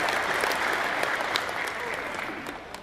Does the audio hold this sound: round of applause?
yes